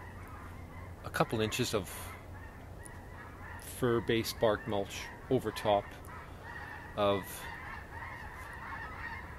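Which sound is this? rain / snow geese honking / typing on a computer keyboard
snow geese honking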